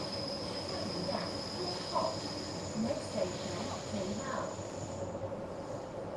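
A steady rail rumble with a high whining hiss runs throughout, as a Hong Kong tram rattles along the tracks, with faint scattered knocks and clanks.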